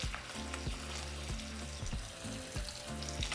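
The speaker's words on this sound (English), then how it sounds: "Just going to cook my tortillas in there and allow them to heat up." Tortillas heat in oil on a comal with a continuous close crackling sizzle, alongside a faint rhythmic low thumping in the background and no voices.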